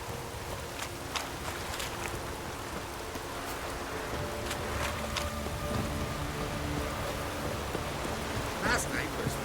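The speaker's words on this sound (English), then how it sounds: "A roaring gale." A roaring gale storm in the Witcher 3 video game, steady broadband wind and rain-like rushing noise throughout with occasional brief gusts and faint crackles.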